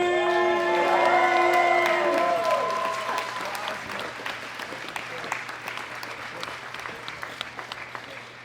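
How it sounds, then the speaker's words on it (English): Audience applause and cheering at the World Classic Powerlifting Championships 2018 for a back-to-back world champion powerlifter; loud sustained clapping with whoops from a large crowd, fading gradually over several seconds. "A big round of applause for L.S. McClain!"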